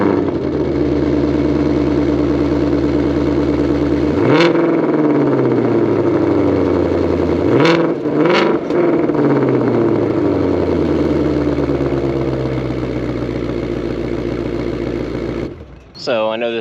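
A Ford Mustang Shelby GT500 Carbon Track Package engine, 760 hp, idles with a deep rumble, then revs sharply a few times, loud and close, before the sound cuts off near the end.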